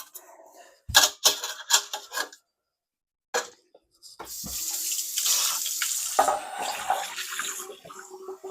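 Water runs steadily from a sink tap after a clogged, slow-draining sink is fixed, a continuous broadband rush lasting several seconds, preceded by a few sharp clunks and handling knocks near the plumbing.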